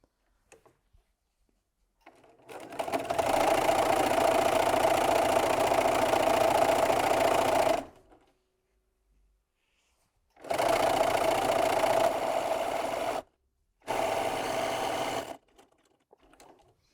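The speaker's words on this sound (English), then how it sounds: "I'm going to go to the sewing machine and start some sewing" A sewing machine stitches honey bun and jelly roll quilt strips together in three close, loud runs of rapid whirring: one long run of about five seconds, then two shorter ones separated by brief pauses.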